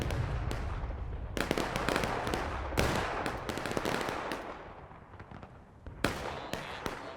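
Cannon fire in a large video game battle arrives as a rapid series of sharp, cracking blasts at varying distances, some bunched together and some spaced apart, with no talking.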